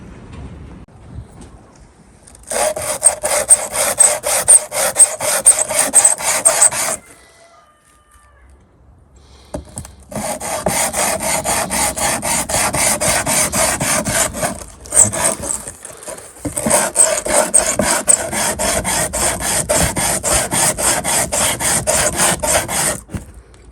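A rusty Fiat 126 part rubbed back and forth on sandpaper, a loud steady rasping scrape in long bursts with a pause in the middle, close and alone.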